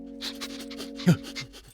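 A dog panting in quick, rhythmic breaths close by, over a low steady hum, with one brief louder sound midway.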